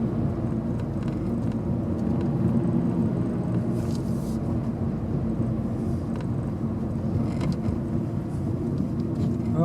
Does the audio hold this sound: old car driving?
yes